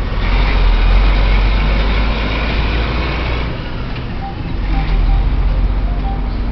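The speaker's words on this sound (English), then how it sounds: "that's a big truck, okay?" A big truck rumbles past outdoors, a loud, steady low drone that dips briefly midway before swelling again, with traffic noise around it.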